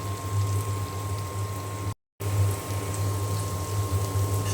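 Chopped onions fry in hot oil in a pan, giving a steady, continuous sizzle close by with no voices over it.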